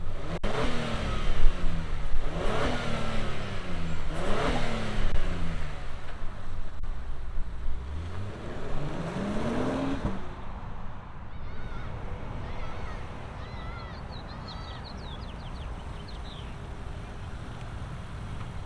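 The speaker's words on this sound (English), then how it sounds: "let's fire up this Acura MDX Type S and hear what it sounds like" A 2025 Acura MDX Type S engine starts and revs repeatedly, each rev rising and falling in pitch and loud and close, then settling into a quieter idle.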